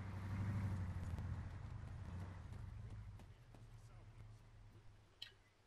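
A car drives in the ARMA 3 video game, its low engine rumble strong at first and then gradually fading away, with a few faint clicks and a brief knock near the end.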